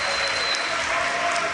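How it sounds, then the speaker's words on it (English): Crowd at the Yu-Gi-Oh YCS Milan final applauding and cheering, a continuous dense roar of clapping held at a steady loud level. "You can hear the crowd probably going crazy."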